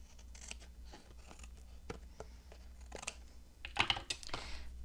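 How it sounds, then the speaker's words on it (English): Scissors snip off a piece of paper during a mixed-media craft session, a run of quiet, close clicks and rustles ending in a louder burst of sharp cuts near the end. "let's cut this piece off"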